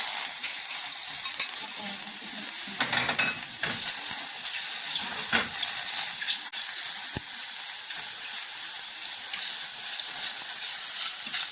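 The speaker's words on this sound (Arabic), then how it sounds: "بعد غادي نضيف عليها الكالامار والكروفيت" Calamari and shrimp fry in oil in a pan with a constant bright hiss and sizzle, with a few louder bursts of spattering and a brief clatter near the start.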